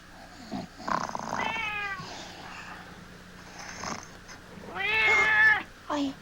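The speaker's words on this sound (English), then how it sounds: "A nasty cat." Cat meows in a cartoon night scene: two loud, drawn-out harmonic meows, the second stronger, with a short third call at the end and a faint low hum underneath.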